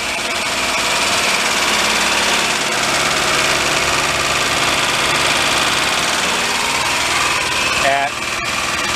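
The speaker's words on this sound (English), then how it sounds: "Fan came on." Idling Daihatsu mini truck with a blown engine and its radiator fan running, a steady loud engine drone with a whirring fan layered in, a brief clunk near the end.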